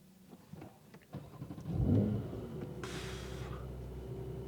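A Porsche 911 Sport Classic of the 992 generation cranks and fires, its engine catching with a loud surge that settles into a steady idle close by inside the cabin.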